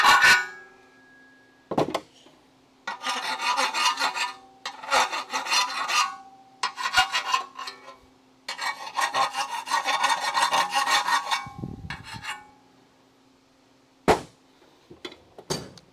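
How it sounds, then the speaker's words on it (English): A metal file rasps a burr off metal parts during a Crew Cab Charger restoration, several bursts of scraping strokes of varying length separated by pauses, close and fairly loud, with a few knocks and clanks between. "just gonna file the burr out of those"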